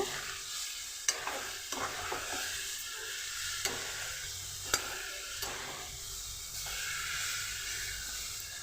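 Native small-leaf coriander fries in a pan with a soft, continuous sizzle. A utensil stirs with occasional scraping clicks, and a few sharper taps stand out. No voices.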